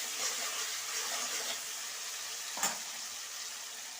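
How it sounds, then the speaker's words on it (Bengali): Tomato fries in a pan over steady, moderate sizzling, with a brief stir or scrape near the end; no one speaks. "টমেটোটা ভালো করে ভেজে নেব।"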